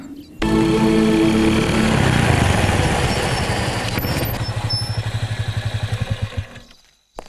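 A motorcycle engine runs steadily under a comedy scene, its rough rumble and clatter continuous, then turning into a pulsing putter before cutting out near the end.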